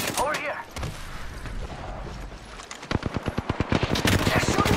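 Rapid automatic gunfire from an Apex Legends battle royale match, with scattered shots early, then a dense rhythmic burst of repeated rounds in the latter half, close and loud over game effects and players talking.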